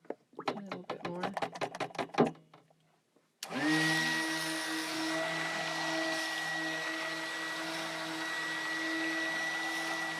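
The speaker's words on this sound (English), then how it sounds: "Hopefully you can hear that story over the noise of my blender" Blender whirring steadily while mixing Aleppo soap with laurel oil, starting abruptly after a short stretch of talk and running as a constant high-pitched motor whine until the end.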